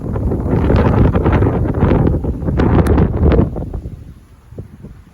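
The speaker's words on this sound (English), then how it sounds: "Terrific, that wind out there. Really bad, that wind." Strong southwest wind buffets an unprotected microphone at a big carp lake in heavy rain, a loud, close rumbling roar in gusts that eases off near the end, no voice heard.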